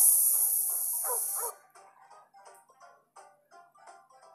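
Cartoon dog barks from a big dog in the Clue Hunter mobile puzzle game, a loud synthetic burst followed by a run of short yappy barks and whimpers, evenly spaced and fairly close, with no talking.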